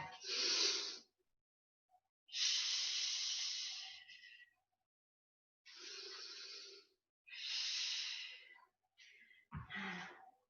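Slow, deliberate breaths during a standing Pilates exercise, long airy inhales and exhales close to the microphone, alternating with silent pauses, a few shorter puffs near the end.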